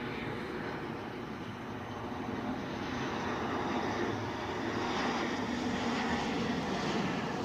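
A Ryanair jet from Milan on approach into Edinburgh Airport, a faint-to-moderate continuous engine roar with a broad hiss and low rumble, building gently over several seconds, no speech.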